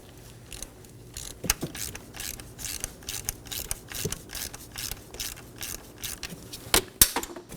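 Ratchet wrench clicking as it loosens an 8mm camshaft position sensor bolt on a 2014-2023 Ford Transit Connect 2.5L L4 engine, a quick irregular series of close, sharp ratcheting ticks with a few louder snaps, no speech.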